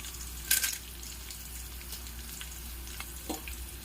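Green chilies and chana dal fry in oil for semiya and rava upma, a quiet, steady sizzle with a few brief louder crackles and stirring scrapes near the start and later on.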